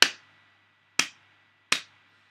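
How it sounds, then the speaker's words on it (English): Three sharp hand claps, spaced about a second apart, each crisp and close with a quick decay into a quiet room. "I'm going to clap on camera."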